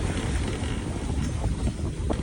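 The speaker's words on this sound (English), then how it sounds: "We got 20, 25 knot winds. Gusts 35, 40." Steady, roaring wind of 20 to 25 knots buffets a sailboat off Hawaii, a dense continuous rush with no pauses and no voices.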